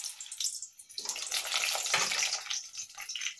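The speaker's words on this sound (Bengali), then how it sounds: "তেল গরম হয়ে গেছে, এবার আমি আলুগুলোকে সব ছেড়ে দেব।" Potatoes dropped into hot oil in a wok give a loud, broadband sizzle that swells after a brief quiet start and keeps crackling steadily for the rest of the moment.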